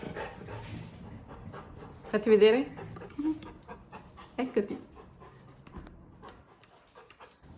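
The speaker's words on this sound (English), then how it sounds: "my dog, Ciao, ciao, ciao. My dog is here." A dog pants and snuffles close by in a painting studio, quick breathy huffs with a few brief whimpers, while someone speaks softly to it over the sound.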